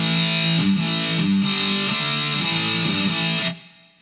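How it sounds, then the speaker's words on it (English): An electric guitar played through a Boss ME-20 multi-effects unit with distortion engaged, a short riff of thick, saturated chords over about three and a half seconds, loud and close, then a quick decay to quiet. "And let's kick on the distortion here."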